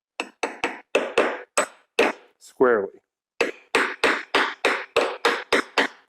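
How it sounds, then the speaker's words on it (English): A hammer drives an idler pulley bearing into a Jeep 4.0L engine with a steady series of sharp, close metallic blows, briefly broken by a single spoken word midway. "It's actually going in pretty nice with the hammer."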